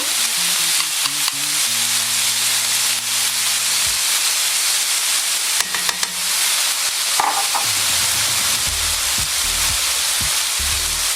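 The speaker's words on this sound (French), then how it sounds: "Ensuite, on y rajoute la sauce." Sauce poured into a pan of frying pork and vegetables sets off a loud steady sizzle and hiss, with occasional scrapes of stirring and a low hum in the background.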